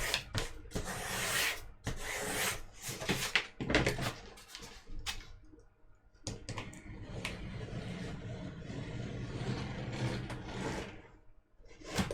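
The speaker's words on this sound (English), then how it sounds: "Just like rub all the dust off." Armour pieces for a costume build are rubbed to clear off dust, making close, uneven scraping and rubbing strokes with short bumps and pauses between them.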